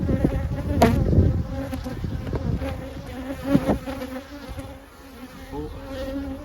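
Honeybees buzz around hives in a bee yard, a close, continuous droning hum with individual bees swelling louder as they pass near.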